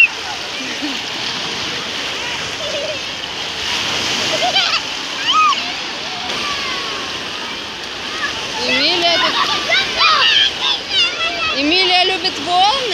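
Sea waves wash and splash at a beach in a continuous broadband rush, with louder surges toward the end, while adults and small children talk and squeal close by.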